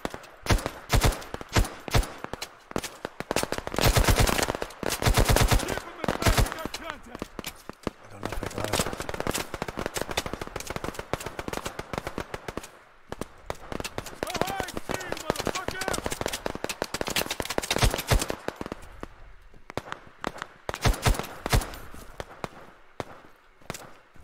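Rapid gunfire in the video game Operation Harsh Doorstop 2, dense bursts of automatic weapons and shots crackling loud and close almost throughout, with short lulls and speech mixed in.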